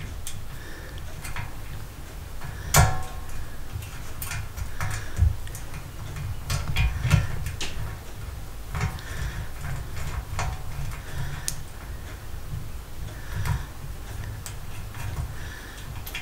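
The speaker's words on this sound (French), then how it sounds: "avec mon tournevis, je vais essayer de visser dans l'écrou" A screwdriver turning into a nut, giving irregular light ticks and small clicks over a quiet background.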